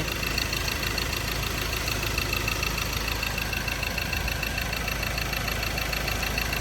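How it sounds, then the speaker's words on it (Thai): A 2012 Mazda BT-50 Pro pickup truck engine idles steadily throughout, a continuous low rumble with a faint rhythmic knock, close and fairly loud, with no voices. "ให้ฟังเสียงเครื่องแล้วก็มาดูว่ามันไม่ไอ"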